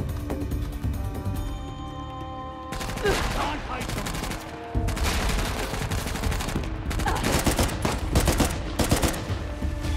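Rapid bursts of automatic gunfire during a firefight with soldiers hiding in bushes in Uncharted: The Lost Legacy, dense repeated shots in clustered volleys, loud and close.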